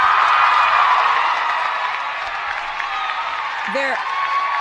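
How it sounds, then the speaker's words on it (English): A crowd applauds and cheers in a dense, steady wash of clapping and voices that holds at a fairly loud level throughout. "That's why they're applauding and cheering"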